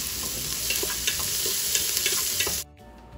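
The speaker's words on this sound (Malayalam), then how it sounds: "ഞാൻ ഇതിലേക്ക് വെളിച്ചെണ്ണ ഒഴിച്ച് കൊടുത്തിട്ടുണ്ട് അതിലേക്ക് കുറച്ച് ഉലുവാനും പിന്നെ സവാള ഇട്ട് കൊടുക്കുന്നുണ്ട്" Onions and fenugreek seeds sizzle hard in hot coconut oil in a pan, a loud, steady, close frying hiss with small crackles and stirring that cuts off abruptly near the end.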